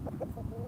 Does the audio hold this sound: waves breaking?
no